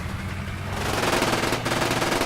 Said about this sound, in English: I hear them shooting